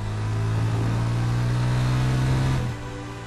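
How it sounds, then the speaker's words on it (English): Exhaust note of a Yamaha FZ25 motorcycle, a close, steady low engine drone that swells slightly as it revs, then drops off near the end. "There was one final touch to make, an appealing exhaust note."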